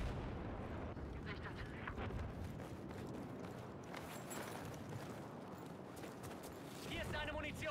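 Grenades in a military video game go off in a dense, rumbling barrage of blasts and booms, continuous and fairly distant-sounding, with no voices over it.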